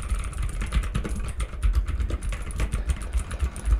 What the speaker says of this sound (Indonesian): Sini gua menggunakan keyboard Blue Switch.